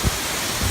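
Steady broadband rush of a waterfall seen on a hike, filling the short moment evenly with a couple of faint low thumps.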